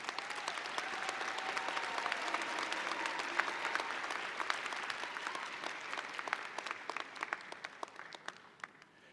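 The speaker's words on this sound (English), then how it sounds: "How about a round of applause for these graduates?" Commencement audience applauding graduates at a university fall ceremony, a distant, hall-filling roar of many hands that gradually thins into scattered individual claps near the end.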